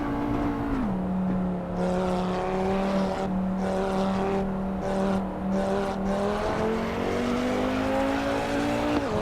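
A race car engine in the racing sim Assetto Corsa Evo revs steadily and loudly throughout, its pitch dipping and climbing as gears shift, with brief tire squeals mixed in.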